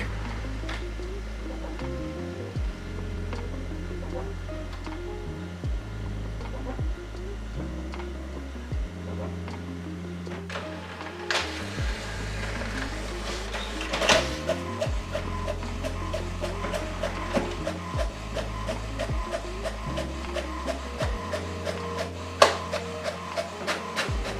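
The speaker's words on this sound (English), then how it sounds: "In between the printing front and back page, there is a short delay while ink is drying." An HP Smart Tank inkjet printer prints the front and back of a duplex page, with rhythmic low mechanical whirring, clicks and knocks of paper feed and carriage, building after a short pause, close and moderate in level.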